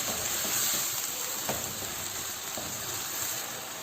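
Chicken handi simmers and sizzles in a pot, a steady, soft frying hiss close by with no talk over it.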